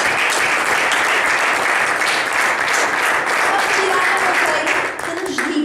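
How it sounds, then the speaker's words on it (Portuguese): A seminar audience breaks into warm, dense applause, loud and sustained, many hands clapping together without pause before it fades slightly at the end. "Por isso, um grande salva de palmas."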